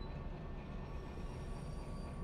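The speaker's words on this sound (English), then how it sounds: "Did you hear that screeching, chat?" Train wheels screech in Derail Valley, a steady grinding rumble with faint high squealing tones that holds evenly throughout.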